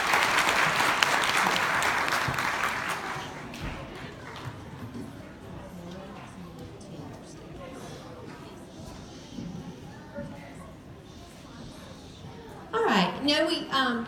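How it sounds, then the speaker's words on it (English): Audience applause at a dance recital swells loudly at first, then fades within a few seconds as a voice talks over quieter surroundings, followed by a brief burst of higher sound near the end. "Let's give her another round of applause."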